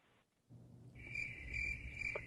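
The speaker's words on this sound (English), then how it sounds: "Crickets." Crickets chirping as a sound effect: a steady high trill of pulsed chirps begins about a second in and holds over a low rumbling background, with no voices.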